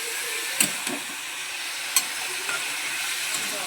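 Spices and tomato sautéing with turmeric in a pan, a soft steady sizzle with a few light spoon clicks and stirs, close and fairly quiet, nobody speaking.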